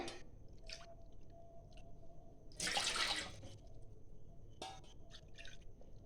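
Water being poured into a big bowl to make syrup for ras malai: faint scattered drips, then a brief splashing gush near the middle, then more quiet trickles.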